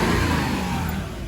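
V8 engine of a 2002 Mercedes ML500 revs in a brief, loud, throaty surge that eases off slightly toward the end.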